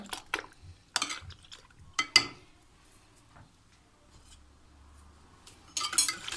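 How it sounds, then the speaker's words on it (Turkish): Batter seasoned with salt stirred in a bowl by hand, a spoon clinking and scraping against the sides in short bursts separated by quiet pauses, close by. "Şunu karıştıracağım iyice."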